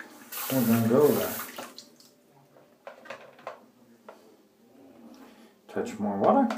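Water is poured into a bowl of shaving soap: a short burst of running water splashes in, then quiet tapping and brush sounds, and a second splash comes at the end, with someone talking in between.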